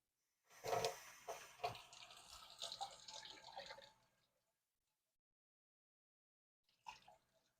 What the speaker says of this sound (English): the sink's gonna be noisy, so because it's gonna be running water